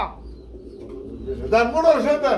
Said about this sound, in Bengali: খুব সুন্দর এক জোড়া মুম্বাই কবুতর yellow colour fully running peer জোড়া